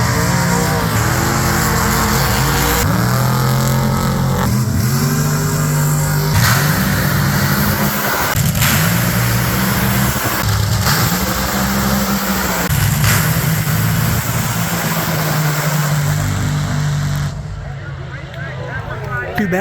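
Drag racing car engines at the drag races roar loudly in repeated rising revving pulls that fade out near the end, with someone talking over them.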